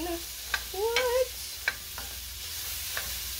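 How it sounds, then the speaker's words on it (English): Non-meat sausages sizzle steadily in a frying pan while being stir fried, with a few sharp scraping clicks and a brief squeak as they are moved around. "But I like to stir fry them kind of a little bit."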